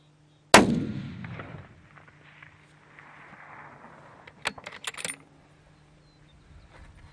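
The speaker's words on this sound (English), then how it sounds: "We'll shoot one more." A single sharp, loud report from a .300 Winchester rifle at an outdoor shooting range, decaying quickly, followed by faint clinks and rattles as the shooter handles gear.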